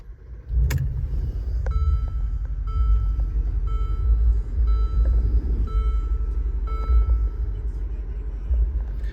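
A Mercedes-Benz G550 4x4 with just under 11,000 miles starts up: a sharp transient as the engine catches, then a steady, loud idle rumble with some whirring and faint chimes layered above.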